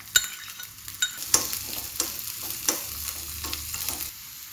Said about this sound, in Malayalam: നമുക്ക് ഈ സവാള പകുതി അരിഞ്ഞതിട്ട് വഴറ്റാം.